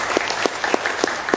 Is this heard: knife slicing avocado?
no